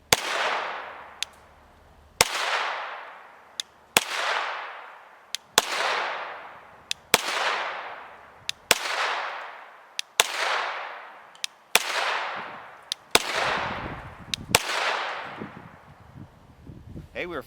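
A CZ Scorpion Evo 3 S1 short-barreled rifle fires 9mm 115-grain FMJ rounds in about ten loud, sharp single shots spaced roughly every one to two seconds, each with a ringing decay, with faint clicks between some shots.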